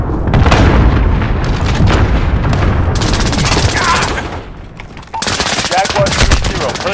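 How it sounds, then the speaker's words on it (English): Video game combat with a cruise missile strike: heavy booming explosions and rapid bursts of gunfire, loud and close, sustained throughout with brief lulls, and a radio-style voice partly audible under the battle. "Cruise missile away."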